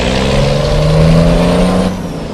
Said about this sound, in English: I'm hearing nothing but trucks outside of my window